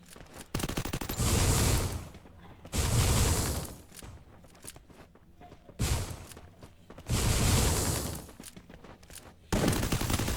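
Rapid automatic gunfire from the Free Fire battle royale game comes in repeated loud bursts of a second or two, separated by quieter gaps.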